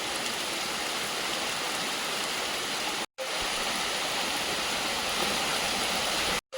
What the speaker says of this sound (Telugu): మొత్తానికి అమృతధార వాటర్ ఫాల్స్కి అయితే వచ్చేసాము